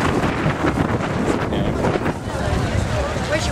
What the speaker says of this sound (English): Bit of a wind coming up now.